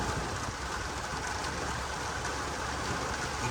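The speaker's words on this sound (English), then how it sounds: "it's raining its ass off" Heavy rain heard from inside an Infiniti Q50 while driving, a dense continuous roar of rain and road noise throughout, with no talk.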